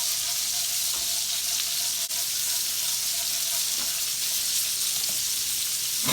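Chicken fried steak frying in a pan gives a loud, continuous close-up sizzle with steady crackling and no talk.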